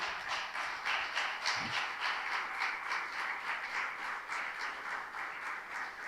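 A congregation at a Spanish-language church sermon applauds, a dense, steady wash of clapping that sounds fairly distant and holds evenly for several seconds with no talking over it.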